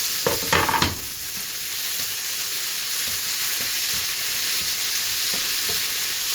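Green seasoning frying in a pot for corned beef and cabbage, a steady close sizzle with a few stirring knocks near the start.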